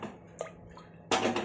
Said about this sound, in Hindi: अब हम डाल देते हैं इसमें 1 कप पानी